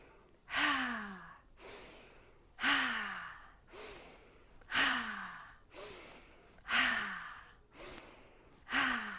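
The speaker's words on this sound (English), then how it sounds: "And this is where the breath comes in. Inhale, exhale, inhale, exhale" Deep, slow breaths during a yoga exercise for anxiety, about eight cycles of long drawn inhales and sighing exhales in a steady, even rhythm, close and fairly soft with no talking.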